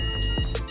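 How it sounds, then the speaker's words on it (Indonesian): Short electronic beeps from an Arduino-based contactless automatic thermal scanner, a couple of bright tonal chirps standing out over a steady background hum, close and fairly loud. "Alat akan berkedip bip merah sebanyak 2 kali ketika pendeteksian gagal."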